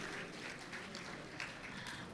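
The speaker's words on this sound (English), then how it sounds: "Please, can we give all of them a resounding applause one more time?" An audience at a leadership lecture and award event claps for governors with dense, faint crowd applause, a steady wash of many hands heard at a distance.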